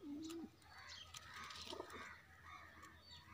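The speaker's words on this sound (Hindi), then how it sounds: "ये हमारा कबूतर है" A racing pigeon gives a soft close coo at the start, followed by faint bird calls and light rustling in a quiet setting.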